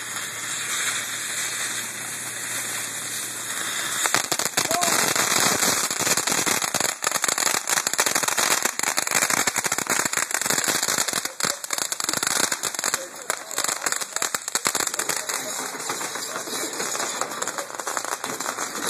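Firecrackers and fireworks going off, dense rapid crackling bursts over a constant hiss, fairly loud and sustained for many seconds.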